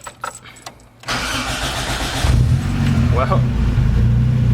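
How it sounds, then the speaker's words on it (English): A Toyota AE86 Trueno cranks briefly and fires up in a garage, settling into a loud, close engine note that climbs as it revs. A person speaks briefly over the first moments. "So let's check if the car can start."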